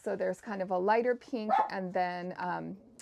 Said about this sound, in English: Pardon my dogs barking. They're outside here with me